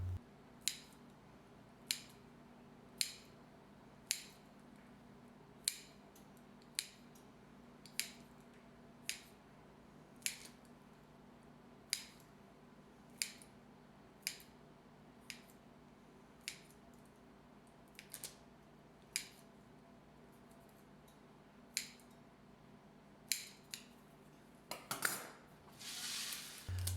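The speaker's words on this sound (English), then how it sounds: "Next, I'll score the dough with the scissors." Scissors scoring baguette dough make sharp snipping clicks at a steady, unhurried pace, about one every second, close and crisp over a faint background hum, ending with a brief rustle.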